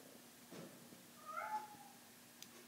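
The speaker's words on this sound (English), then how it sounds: "my cat is meowing" A house cat gives a short meow, then a longer rising meow a moment later, fairly faint in a quiet room.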